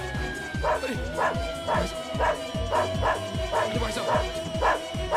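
A dog barks and yips insistently in rapid repeated bursts, close and loud, while a voice speaks over it.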